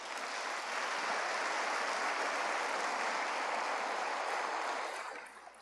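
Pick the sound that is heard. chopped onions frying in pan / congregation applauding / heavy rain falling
congregation applauding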